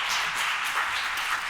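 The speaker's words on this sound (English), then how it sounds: "let's give our panelists a round of applause" An audience applauds in a steady wash of clapping, moderately loud, with no one speaking.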